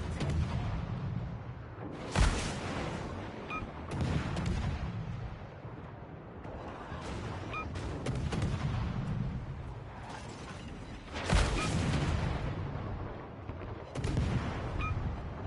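Missile strikes and heavy explosions from a naval battle in World of Warships Legends as an enemy cruiser is hit: a continuous rumbling, mechanical din broken by sharp booming blasts, loudest near the start and again about two-thirds through.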